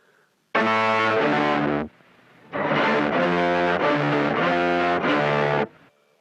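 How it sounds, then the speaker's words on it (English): An octave-down pedal signal with added fuzz distortion plays loud, buzzy, saturated notes: one held note, a brief pause, then four steady sustained notes of even length. "what we do to that sound is we add a little bit of fuzz to make it sound a bit distorted"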